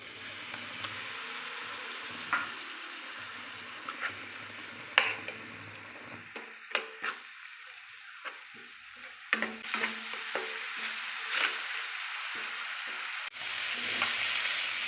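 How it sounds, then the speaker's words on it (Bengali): Grated tomato frying with spices in a pan gives a low continuous sizzle, broken by repeated stirring clicks and scrapes, with a louder surge of hissing near the end and no voices. "এই যে টমেটো দিয়ে আমি 1 মিনিটের মতন কষিয়ে নিয়েছি।"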